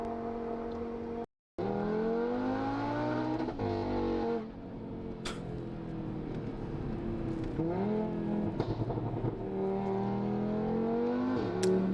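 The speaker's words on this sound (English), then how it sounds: "Every time that 5-cylinder though just sounds so good." A five-cylinder car engine revs in steady, rising and falling drones with a harmonic tone, loud and close throughout. There is a brief dropout early on and a few pitch swells toward the end.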